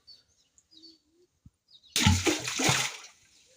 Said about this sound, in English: I need to take a stone and throw inside and hear the density of water